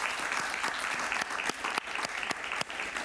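A television studio audience on a talk show applauds a guest, a dense, sustained round of clapping with sharper individual claps standing out, fairly distant and on its own.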